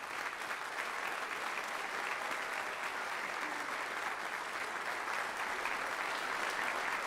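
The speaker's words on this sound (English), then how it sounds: "let's recognize all these students with a round of applause." Audience applause fills a convocation hall for Phi Kappa Phi honor students, a steady, dense wash of clapping sustained evenly for about seven seconds with no voices over it.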